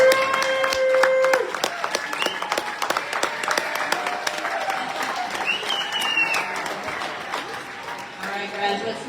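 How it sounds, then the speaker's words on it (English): Graduation ceremony audience at Charter College Pasco breaks into sustained applause, dense clapping that swells early and then continues steadily, mixed with crowd noise and scattered voices. "give them a round of applause for all of their support"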